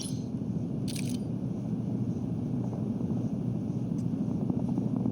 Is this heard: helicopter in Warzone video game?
yes